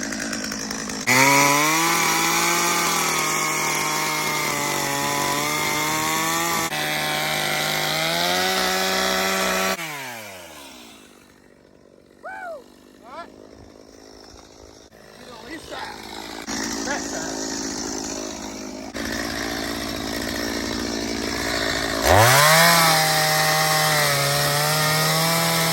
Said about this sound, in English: I will throw this chainsaw